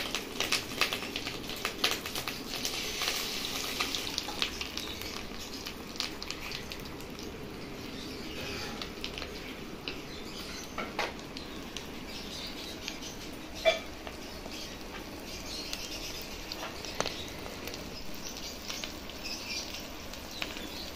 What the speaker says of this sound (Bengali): তেলটা গরম হয়ে গেছে, আমি এর মধ্যে এবার ডিমটা দিয়ে দিচ্ছি। কিন্তু খুব ফাটবে বন্ধুরা